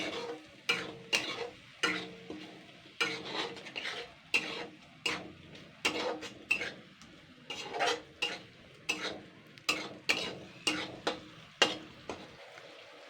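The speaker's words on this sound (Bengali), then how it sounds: "এবার এটাকে দিয়ে ভালো করে কষাবো মশলাগুলো দিয়ে" A spoon or spatula scrapes through a spice masala cooked with tomato ketchup in a pan, in steady rhythmic strokes about once a second, close and clear with a low sizzle underneath.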